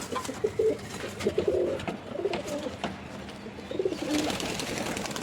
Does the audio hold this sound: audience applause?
no